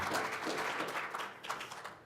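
An audience at a talk applauds, a steady wash of many hands clapping with no voices over it.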